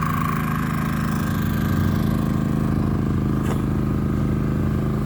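A WEN 56380i 3800-watt inverter generator runs on the muffler side while powering a trailer air conditioner, giving a steady, moderately loud mechanical hum with no change throughout.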